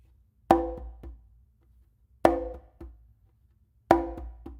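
Three conga triplets, each a sharp open slap followed by two soft ghost notes, spaced evenly about every one and a half seconds, close and dry with quiet gaps between.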